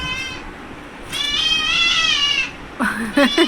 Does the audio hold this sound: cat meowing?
yes